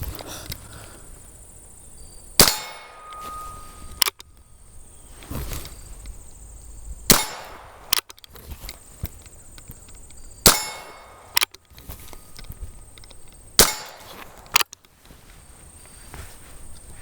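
A Heritage revolver fitted with a .22 Magnum cylinder fires a series of sharp, isolated reports spaced a few seconds apart, each with a brief ringing decay, heard outdoors at moderate distance without speech.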